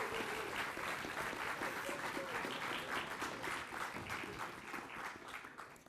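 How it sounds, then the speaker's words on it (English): An audience at closing remarks gives dissertation supervisors a round of applause: a dense, steady wash of many hands clapping at once, sustained for about six seconds with faint crowd murmur beneath. "Can you give your supervisors a round of applause"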